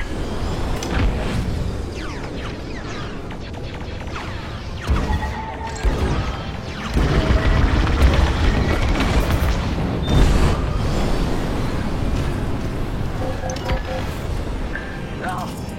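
Explosions and crashing blasts as Imperial TIE fighters destroy a Corvette in a Star Wars space combat video game, dense continuous battle noise with several louder booms, mixed with game music and radio voices.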